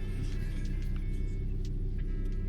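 Steady low rumble inside a moving car, a constant engine and road drone close around the listener with no talking.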